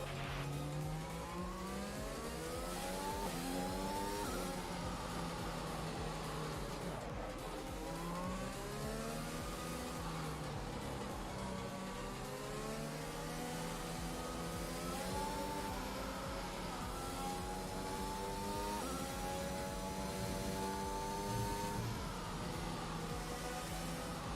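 A video-game Formula 1 car engine screams through the gears at the Jeddah circuit, its high whine climbing and dropping repeatedly with each shift, loud and continuous with faint tyre noise underneath.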